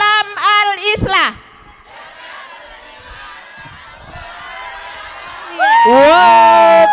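Students at SMA Islam Al-Ishlah in Bukittinggi loudly shout their school chant in unison, with bursts of crowd cheering and whooping at the start and a louder group shout near the end, separated by a quieter stretch of murmuring.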